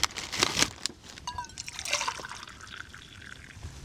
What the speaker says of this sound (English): I pour the water into my cup first and then pour it into here